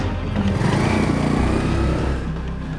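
Car engine revving hard as the vehicle speeds away, a loud sustained roar with rising and falling pitch and no voices.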